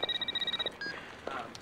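A telephone rings in a short run of rapid, evenly pulsed electronic trills, followed by a brief tone and faint noise.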